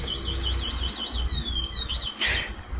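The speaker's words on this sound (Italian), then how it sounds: "il monopattino quando lo muoviamo con l'allarme inserito emette il suono di allarme" A Kugoo M4 electric scooter's anti-theft alarm sounds when the scooter is moved: a loud, continuous electronic siren warbling up and down, followed by a brief sharper burst near the end, with no one talking.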